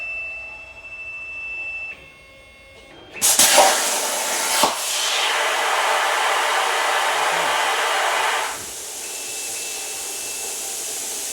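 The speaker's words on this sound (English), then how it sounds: "so we can press torch on off to resume cutting." A CNC plasma torch resumes cutting on an iCNC-controlled table: after a quiet machine hum, a loud, steady rushing hiss bursts in and holds for about five seconds, then drops away to a softer background drone.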